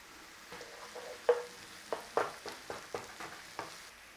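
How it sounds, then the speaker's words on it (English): Spices dropped into hot oil at the side of a pan of frying onions, a soft steady sizzle punctuated by several sharp crackling pops and stirring scrapes, close and fairly quiet with no voices. "I'm going to pull it to one side and let the oil go to one side and put the spices in."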